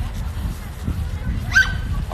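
A small dog gives a brief yip or whimper partway through, faint against a steady indoor background with a soft voice nearby.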